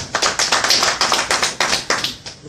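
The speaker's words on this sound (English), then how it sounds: "Round of applause, man." Steady rhythmic clapping at a sermon gathering, a string of sharp, evenly spaced claps close by, fairly loud and without voices, fading slightly toward the end.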